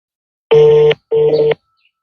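Two loud, close telephone dialing tones, each about half a second long with a short gap between them, ring out alone against silence as a call is placed.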